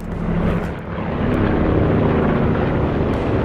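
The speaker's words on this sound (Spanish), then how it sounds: "Por aquí hay un helicóptero." Helicopter flying in Call of Duty Black Ops 4 on PS4 Pro, a steady low rotor drone that holds loud and continuous throughout, with the pitch shifting slightly as the aircraft moves.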